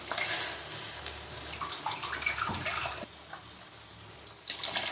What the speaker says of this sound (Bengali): জল দিয়ে দিলাম একটু।